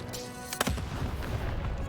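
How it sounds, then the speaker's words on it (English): Cannon firing in the video game Lost in Random; a single sharp boom with a rumbling tail, set against game music and ambience. "Shoot the button to fire the cannon."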